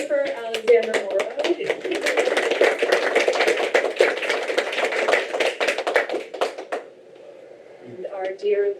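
An audience at a community TV annual meeting applauds a videographer with brisk, dense clapping that lasts about six seconds, then fades into voices talking.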